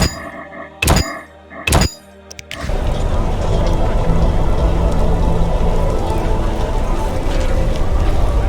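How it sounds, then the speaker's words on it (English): Two heavy thuds ring out, then steady rain pours down in a dense, continuous hiss that fills the rest of the clip, in the video game The Witcher. "It rains and it pours."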